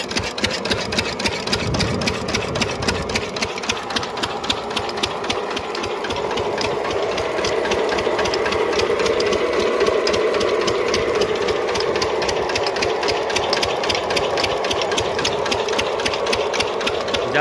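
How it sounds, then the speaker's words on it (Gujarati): A Field Master 14 engine-driven machine on a farm runs steadily, its mid-pitched mechanical chugging and fast rattling pulses continuing without break, loud and close, with no talking. "જ્યાં અહીંયા 14નું મશીન છે, બરાબર, ફિલ્ડ માસ્ટરનું."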